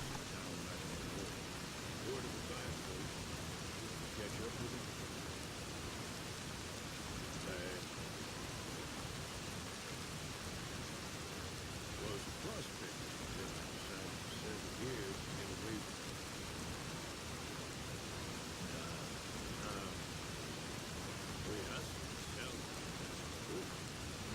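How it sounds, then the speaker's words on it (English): Heavy rain in the video game Fallout: New Vegas, a dense, constant hiss of downpour that fills the whole stretch without a break. "That is a heavy rain, I can't even hear this guy."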